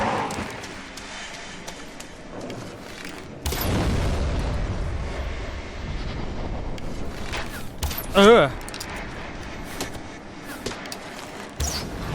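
Far Cry 4 combat with booming explosions and bursts of gunfire, including a loud blast midway and scattered shots, mixed with game ambience.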